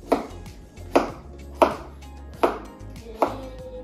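A knife chops pumpkin into strips on a board, five sharp, evenly spaced thuds close by with quiet pauses between, and no talking.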